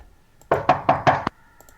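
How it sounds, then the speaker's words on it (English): Four firm knocks on a door, evenly spaced and hollow, close and loud, followed by a faint pair of light taps in an otherwise quiet room. "Let's knock on the door."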